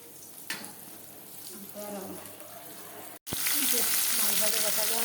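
Fish sizzling as it fries in a pan at home, a steady close crackle with a brief cut partway, then louder, denser frying.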